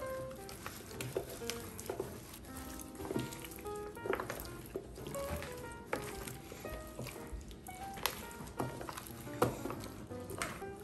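Chicken wings mixed by hand with cornstarch and flour for Chinese takeout-style fried wings give off a steady, moist squishing and crackly rustling with frequent small clicks, close by and with no talk.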